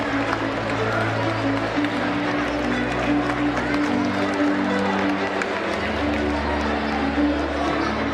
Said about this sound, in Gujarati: સૌને તાળીઓના ગણગણાટથી વધાવી લેવા વિનંતી.